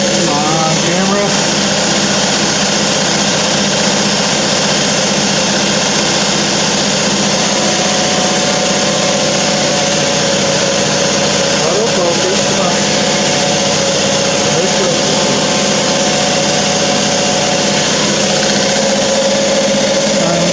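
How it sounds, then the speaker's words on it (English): An air compressor beside an Aqua Blast cabinet runs without pause in a dense, loud mechanical drone with a steady motor hum throughout. "Wait for that compressor to turn off."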